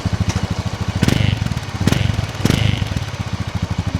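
A motorcycle engine idles unevenly right after a cold start, its steady low thumping pulse rising and falling with a few louder surges, close and alone without talk.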